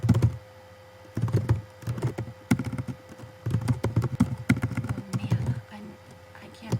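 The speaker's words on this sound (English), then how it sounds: "look down here as I type" Clattering bursts of keystrokes on a computer keyboard, close and irregular, with pauses between clusters of taps and a steady low hum underneath.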